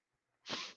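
A single short, loud sneeze bursts out close to the microphone after a quiet moment, then trails off.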